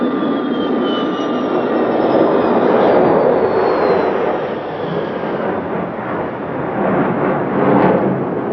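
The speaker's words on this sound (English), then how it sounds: "The Tu-144 made 3 passes over the airfield." A Tupolev Tu-144 supersonic airliner passing over an airfield, a loud sustained roar of jet engines that swells and holds, with a faint falling whine over the broad rumble and no voices.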